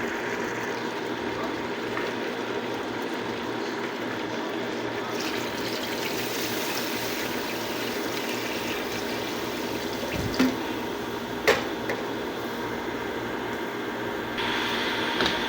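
Water runs steadily into a pot of beef trotters for paya, a continuous trickling and gushing pour with a couple of brief clanks near the end.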